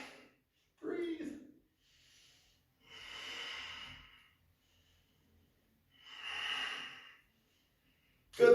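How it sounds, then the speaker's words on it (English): Slow, audible breaths during a Kripalu yoga flow, two long airy exhales separated by quiet pauses, with a brief voice near the start. "Breathe."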